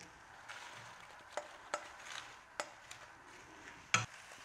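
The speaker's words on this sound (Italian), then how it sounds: "appena frigge leggermente, mettiamo degli spinaci" Spinach added to a soffritto mix frying gently in a pan gives a soft, faint sizzle, broken by scattered sharp clicks and taps from stirring.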